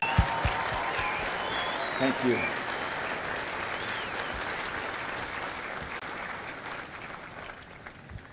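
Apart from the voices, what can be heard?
applause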